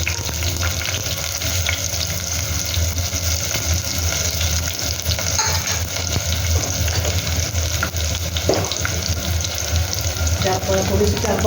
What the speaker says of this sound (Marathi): तेल तापलं, त्यात कांदा टाकू